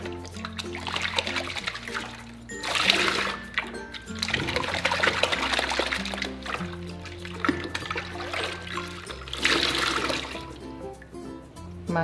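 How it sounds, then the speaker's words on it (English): Hair extensions are rinsed under running water: a steady, close rush and trickle of tap water with splashing surges, continuous throughout over a background of music. "Now we're going to give it a rinse."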